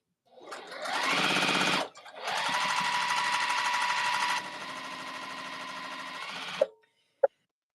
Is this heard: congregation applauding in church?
no